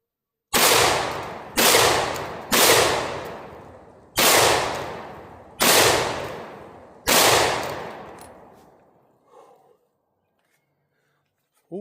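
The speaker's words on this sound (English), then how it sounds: "I'm just kind of running some rounds through it, trying to break it down. So here we go. Here's a few shots." Mac 1014 shotgun firing six loud close shots at uneven intervals of roughly one to one and a half seconds, each blast ringing and decaying, followed by a faint clatter and quiet.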